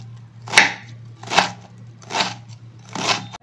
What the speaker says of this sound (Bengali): এইটা আমি কুচি কুচি করে কেটে নেব। প্রথমে এরকম করে কাটি, তারপরে এরকম করে কাটি।